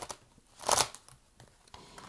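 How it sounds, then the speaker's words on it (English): Tarot cards being shuffled by hand: one quick, crisp papery riffle burst stands out midway, with faint soft rustles of the deck before and after. Nobody speaks. "shuffling these cards"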